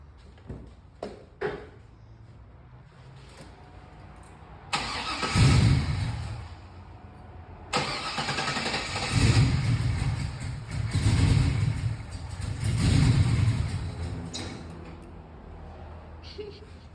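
A few clicks, then a 1999 Camaro's LS1 V8 with a swapped camshaft cranks and fires into a loud rough, choppy idle, revving several times, briefly cutting out before restarting.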